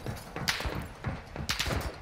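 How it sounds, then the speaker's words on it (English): Two sharp gunshot bursts from the video game DMZ, about a second apart, with low thuds underneath and constant game noise in the background. "Gunshots."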